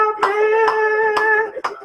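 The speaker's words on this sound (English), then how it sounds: "Yes. I feel like clapping." Four slow, evenly spaced hand claps ring out over a sustained, steady singing voice, each clap a sharp short hit.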